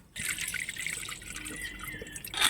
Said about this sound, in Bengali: দানাটা দেখুন ডালের দানাটা ছোট ছোট এইবার ধুইতে ধুইতেই বেশ ফুলে যাবে